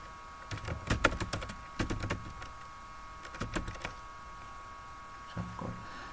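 Fingers tap on a computer keyboard while typing a document, with quick clusters of close, crisp key clicks separated by short quiet pauses and no talking.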